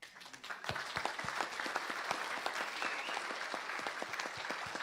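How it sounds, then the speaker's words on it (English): A live audience at a cast Q&A in Medora claps with steady applause, a dense patter of many hands that holds at an even level for several seconds. "Another round of applause for everybody that's here."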